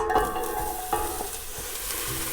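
Chopped onions hit hot olive oil in a pan and sizzle steadily and fairly loudly, with a few scraping stirs and clinks cutting through the continuous hiss.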